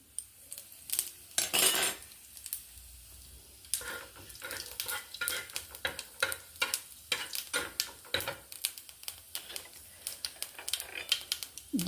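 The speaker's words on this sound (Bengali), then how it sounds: "একটু জিরে ফোড়ন দিয়ে দিচ্ছি।" Cumin seeds dropped into about a spoonful of hot oil in a pan give a close, crackling sizzle, joined by a run of sharp clicks and taps from a spoon or spatula stirring against the pan, with no one talking.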